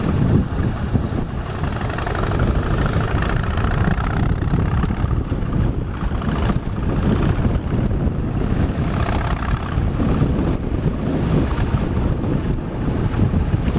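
Wind roars over the microphone while a Harley-Davidson Street Bob Special motorcycle rides along, its low engine rumble blended into heavy, steady buffeting noise, loud and close, with no speech.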